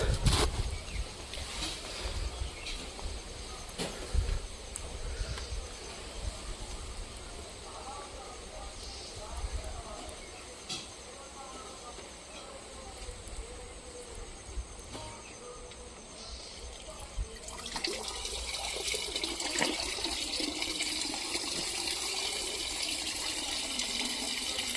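Water flows through a homemade pond filter pipe, a continuous gushing splash that grows brighter and fuller toward the end, heard close with someone talking over it at times.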